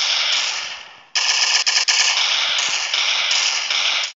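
Rapid automatic gunfire from an MP5 submachine gun rattles almost continuously in a multiplayer video game, with a brief gap near the start, loud and close.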